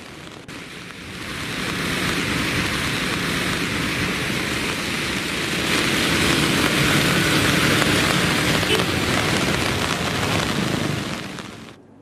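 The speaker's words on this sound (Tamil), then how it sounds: "சேலத்தின் பல்வேறு பகுதிகளில் 1 மணி நேரத்திற்கும் மேலாக கனமழை கொட்டியது." Heavy rain pours down across Salem in a dense, steady roar that swells slightly midway and continues loud for several seconds before cutting off.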